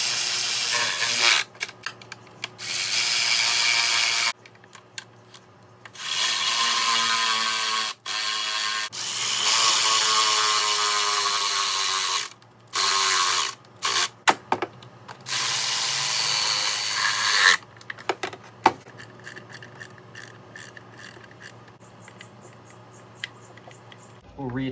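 Bolts on a valve cover of a 3.3L or 3.8L Dodge Caravan are retightened with a hand ratchet, giving bursts of fast clicking separated by pauses, close and fairly loud, with a few short taps near the end.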